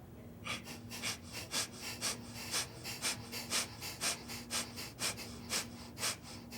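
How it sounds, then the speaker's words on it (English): Rapid nasal exhales in a fast yoga breathing exercise, about fourteen sharp, evenly spaced puffs in steady rhythm, close and fairly quiet, with no talking. "This time let's do 8 strokes, but make it a little faster. So first let's take a deep inhale. Now exhale a little faster."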